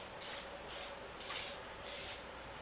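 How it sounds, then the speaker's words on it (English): Pam canola-oil cooking spray hisses from its can in four short, even bursts in a steady rhythm. It sounds close but fairly soft, with quiet room tone between the sprays. "I'm going to shoot the Pam cooking spray"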